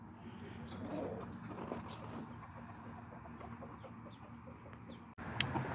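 Chicken hens make a soft, steady murmuring purr with occasional low clucks, a continuous contented chorus close by in their coop space.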